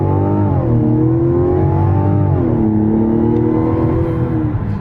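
A 2025 Mazda CX-70 Turbo S Premium Plus with a turbocharged inline-six accelerating hard off the line, its engine note climbing in pitch, easing through a gear change and rising again, loud and steady throughout with no talking.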